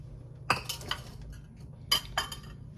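A utensil knocks and clinks against a bowl while beating 3½ eggs for a coconut white chocolate pound cake, two short bursts of scraping taps separated by a quiet pause, close and fairly soft.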